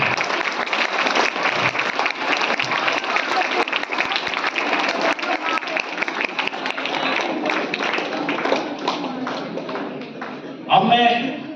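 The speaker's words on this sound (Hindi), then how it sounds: "तो एक बार जोरदार तालियां।" Schoolchildren in an assembly audience break into loud, sustained applause, a dense wash of clapping that runs steadily throughout and thins at the end, where a brief louder burst and a faint voice come through.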